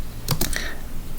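Several quick keystrokes on a computer keyboard while typing code, a short burst of three or four taps followed by a pause and one more tap, close and clear with no talking.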